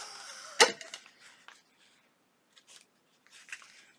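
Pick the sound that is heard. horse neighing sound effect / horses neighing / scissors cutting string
scissors cutting string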